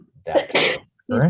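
A single sneeze breaks out during a photo contest judging session, a sharp burst followed by a brief pause before people speak nearby.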